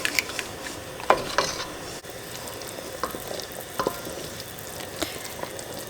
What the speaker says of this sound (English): Now you can see it's starting to come to a boil